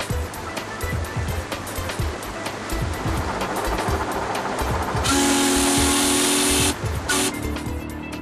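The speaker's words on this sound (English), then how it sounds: "We're being carried by the gentle waves of Coniston water." Gentle waves wash continuously on Coniston Water in the Lake District, a soft rhythmic lapping. Midway a loud, steady whistle-like tone sounds for a couple of seconds, then cuts off.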